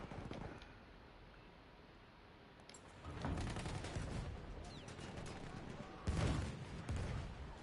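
Machine gun fire in a friendly video game match comes in two bursts of rapid rattling shots, a quieter stretch first and then heavier volleys, fairly distant under a low background.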